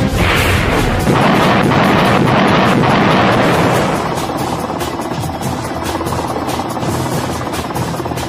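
Mi-8 and Mi-24 military helicopters fly past with a loud, continuous rotor roar and chopping beat, heavy at first and then easing slightly as they move off.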